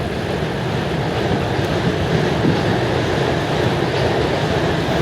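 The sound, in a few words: subway train passing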